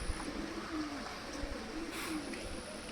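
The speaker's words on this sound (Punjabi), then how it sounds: "ਆਪਣੇ ਆਹ ਕਬੂਤਰ ਫਿਰ ਰਹੇ ਨੇ ਦੋਸਤੋ" Domestic pigeons coo softly in a few low, rolling phrases against a steady outdoor background hiss, fairly faint and without talk.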